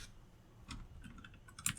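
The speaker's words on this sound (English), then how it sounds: "So I type something here." Typing on a computer keyboard, with a few soft, close keystrokes scattered across a quiet room and a sharper click near the end.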